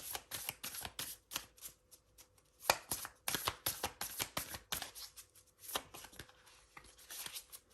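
A deck of tarot cards is shuffled by hand in quick, crisp riffles and taps, a steady run of close, light papery clicks with no voices.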